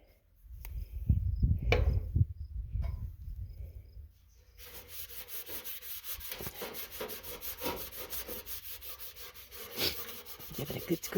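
Something is scrubbed clean in a home kitchen, starting with heavier bumps and rubbing, then settling into a fast, steady back-and-forth brushing rasp, close and moderately quiet, with no talking.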